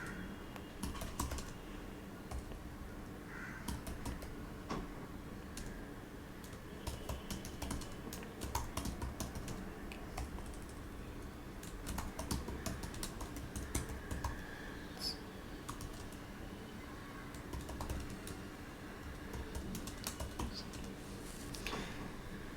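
Steady typing on a computer keyboard while filling in a web form, with rapid, faint clicking keystrokes and occasional louder taps running continuously throughout.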